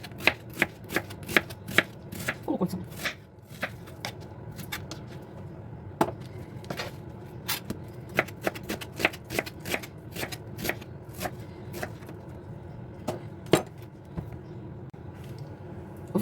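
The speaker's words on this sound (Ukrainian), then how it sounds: "Ріжу цибулю." A knife chops onion on a cutting board for a potato dish, with rapid sharp taps in irregular bursts of quick strikes and brief pauses, close and crisp, with no voices.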